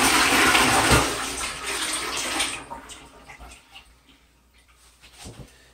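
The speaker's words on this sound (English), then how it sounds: "I'm going to give it a flush so that I relieve the water pressure in the pipe." TOTO Washlet bidet toilet seat flushing, a loud rushing gush of water that fades into trickling and refilling sounds, heard up close with no talking.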